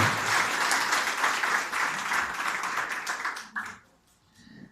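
A church congregation applauds during a Spanish-language sermon, dense steady clapping that carries for several seconds before fading out, with a faint voice at the end.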